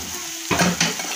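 Chana masala spice paste sautéing in hot oil in a pan, with a low steady sizzle and two brief scraping stirs of a spoon, close and alone.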